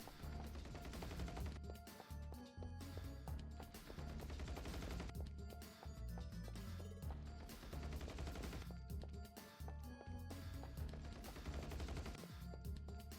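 Sustained rapid gunfire from the Ratchet and Clank: Size Matters video game, loud, dense bursts of shots with crashing impacts running continuously over game music, no voices.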